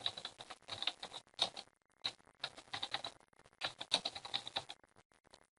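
Fingers tap out a name on a computer keyboard in quick, irregular bursts of crisp clicks with short pauses, fairly close and clear, no voice.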